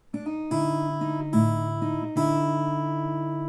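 Acoustic guitar plays the first measure of a blues song, a few fingerpicked chord strikes over a ringing bass with a slightly dissonant, unresolved sound, close and alone before fading.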